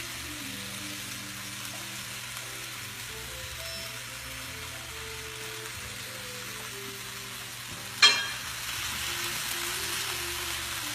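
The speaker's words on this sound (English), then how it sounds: "Gonna add our onions in here" Onions added to a hot pan on a stove, a soft steady sizzle that jumps with a sudden crackle when they hit the oil, then continues a little louder.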